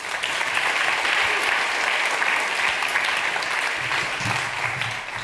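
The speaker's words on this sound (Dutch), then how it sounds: "Geef haar een applaus." Audience at a literary event applauds a guest reader, sustained and even clapping from a full room that carries on steadily for several seconds with no talk over it.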